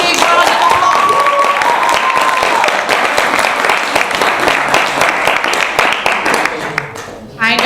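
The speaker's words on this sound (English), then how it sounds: "Let's give them another big round of applause." An audience at a national tourism debate applauds, a loud sustained round of clapping that holds evenly and tapers off near the end, with a voice heard over it.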